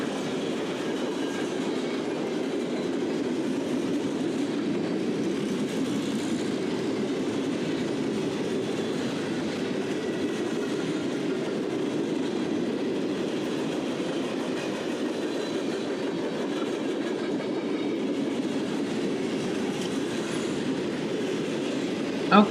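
A Norfolk Southern trash train led by two locomotives rolls past in a steady, continuous rumble with faint clickety-clack from the wheels, sustained and fairly close throughout with no talk.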